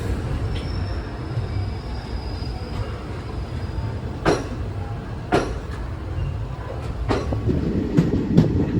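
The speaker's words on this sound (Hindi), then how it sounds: "लोकोमोटिव चेंज के बाद अब हम लोग निकल रहे हैं तिरुचिरापल्ली जंक्शन से" Passenger train on the Chennai–Rameswaram route pulling out of Tiruchirappalli Junction after a locomotive change, a steady low rumble of rolling wagons broken by several sharp rail-joint clacks and a few squeals, with no talking.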